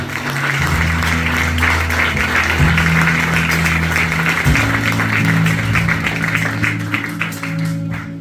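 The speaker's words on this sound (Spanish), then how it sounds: "Den un aplauso al Señor." A church congregation claps together after a sermon, a dense sustained wave of applause over a low steady hum, fading slightly near the end.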